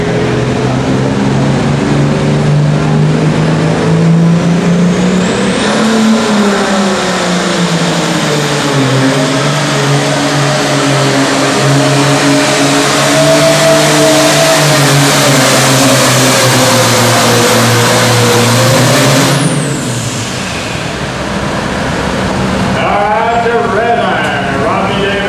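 A heavy diesel tractor engine roars under sustained load at a 9,300-pound Super Farm tractor pull, pitch climbing and holding loud for long stretches before cutting off, then revving briefly again.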